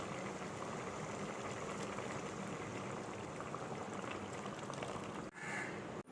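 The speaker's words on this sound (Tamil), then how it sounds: "இப்போ நம்ம கோகோனட் மில்க் சேர்த்துக்கலாம்." Coconut milk goes into a simmering mutton gravy, giving a steady bubbling, liquid wash that continues for several seconds before dropping briefly near the end.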